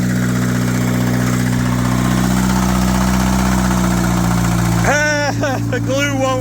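A Suzuki car engine idles steadily with a deep, even hum, with screws, metal shavings, nuts and bolts dropped into it; near the end a voice talks over the running engine.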